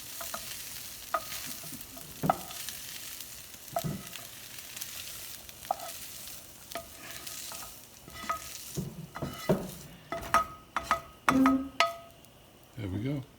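Browned ground beef stirred into boiling tomato sauce for macaroni, a spoon scraping and clinking against the pot in uneven bursts over a faint simmer, with people talking intermittently.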